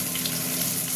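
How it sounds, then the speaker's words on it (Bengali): Red amaranth leaves frying in a hot wok make a dense, constant sizzle with no breaks. "এবার করব এই যে লাল শাক ভাজা হবে।"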